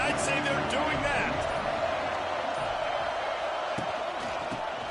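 A college football crowd roars in a steady, dense wash of cheering and noise throughout, with occasional shouts rising above it and a voice faintly under the din.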